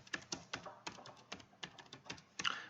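Typing on a computer keyboard while entering a category name in Revit software, a quick run of about a dozen distinct key clicks at close range with a small burst of taps near the end, no talking.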